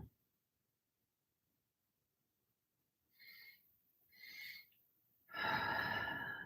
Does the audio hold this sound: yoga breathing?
yes